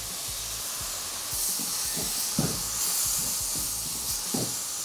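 Veggie stir fry with scotch bonnet pepper, ginger, garlic and soy sauce sizzling in a pan, a steady broadband hiss with a few short clicks and scrapes of stirring, no voices.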